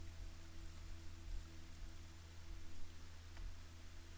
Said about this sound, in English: Hopefully this isn't acid rain.